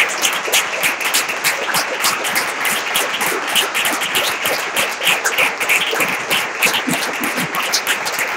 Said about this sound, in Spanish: Den una ofrenda de aplauso,